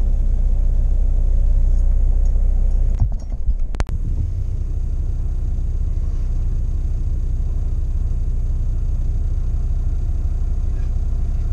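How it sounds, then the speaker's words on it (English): A truck engine rumbles steadily at a recycling centre, a loud continuous low drone close by, broken briefly by a couple of sharp knocks partway through before the idle carries on. "this truck is probably trying to get out"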